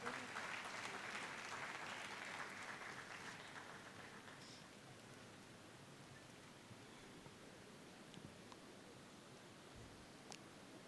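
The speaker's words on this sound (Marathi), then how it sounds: "जोरदार टाळ्या मोहन दातेजी यांच्यासाठी" Applause from an audience at a community gathering welcoming a speaker, a dense wash of clapping that is strongest at first and then thins to a faint, steady patter.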